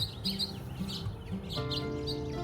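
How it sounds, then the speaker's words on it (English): Birds chirp and tweet in a spring garden in the morning, repeated bright calls over a steady low background hum, fairly close and clear, with several short phrases. "can you hear the happy birds this morning?"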